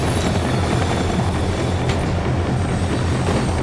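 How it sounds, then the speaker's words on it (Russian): A helicopter in Max Payne 3 gives a loud, dense, continuous rotor and engine roar that fills the scene steadily from start to finish with no break and no talking. "И вертолет, конечно же."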